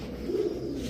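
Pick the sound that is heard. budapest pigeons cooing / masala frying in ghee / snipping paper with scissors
budapest pigeons cooing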